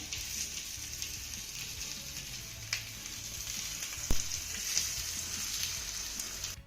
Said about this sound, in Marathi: थालीपीठ आपल्या तव्यामध्ये घालून झालं की कडेनं आपल्याला तेल सोडून घ्यायचं आहे